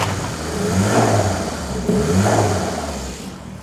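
A 1990s hot hatch engine runs close by after exhaust repairs, its low hum swelling twice as if lightly revved before settling back to a steady idle.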